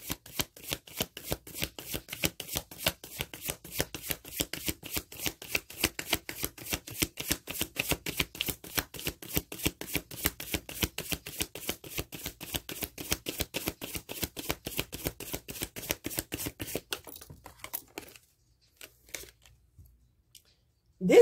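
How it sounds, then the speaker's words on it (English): Tarot cards being riffled and shuffled in a rapid, crisp patter for about seventeen seconds, then a few scattered taps before quiet. "I'm going to put it back in and shuffle"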